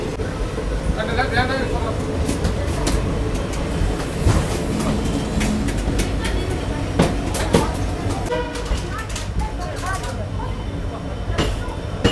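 A diesel-hauled passenger train runs across the Thar Desert on a single-line section near Phalodi, heard from inside a crowded general coach in intense heat: steady rumble and wheel clatter throughout, with passengers chattering in the background.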